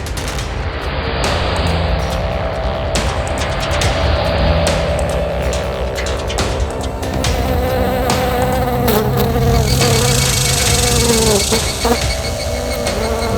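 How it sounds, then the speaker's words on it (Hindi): A housefly buzzes inside a car, a steady close insect drone running for many seconds beneath a busy, dramatic background score. "ये गाड़ी में मक्खी कहां से घुस गई?"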